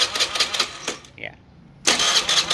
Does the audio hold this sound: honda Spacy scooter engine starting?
yes